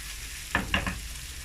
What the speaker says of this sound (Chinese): 中小火慢慢炒